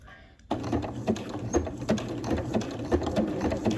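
A domestic sewing machine stitching steadily at close range, its rapid mechanical patter running continuously after a brief quiet start, with irregular ticks and knocks as the machine skips stitches and forms thread loops.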